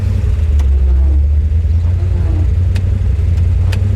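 Just restarted after stalling from too low an idle, a 1966 Ford Fairlane's engine idles loud and close with a deep steady rumble, with a few sharp clicks on top.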